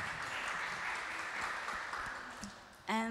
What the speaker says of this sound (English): This deserves an applause.